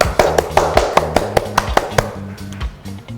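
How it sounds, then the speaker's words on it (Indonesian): A classroom group claps briefly in a quick, steady rhythm of sharp hand strikes, close and loud, fading after a few seconds. "kita berikan aplaus dulu buat kita semua"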